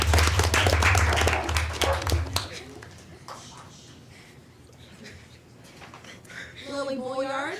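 An audience at a school quiz bowl claps loudly and briskly for a couple of seconds. The applause then fades and a voice talks over the quiet room.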